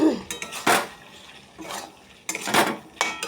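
A kadai rattles and clanks in bursts while potatoes are stirred in hot oil, with several sharp metallic scrapes and knocks at close range and no talking.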